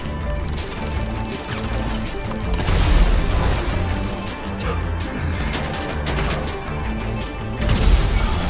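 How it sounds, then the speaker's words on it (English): A loud crashing explosion in GTA Online during a bank heist, with heavy booming rumbles around the middle and again near the end amid dense chaotic game noise. "Aaron, it's gonna explode!"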